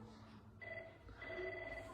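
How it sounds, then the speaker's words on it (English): A telephone ringing indoors at a school assembly, with a faint, thin electronic ring tone sounding in two short bursts over a quiet room. "The phone's ringing."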